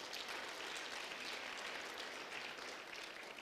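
A skills summit audience claps in a steady, continuous round of applause, distant and fairly faint, without voices on top.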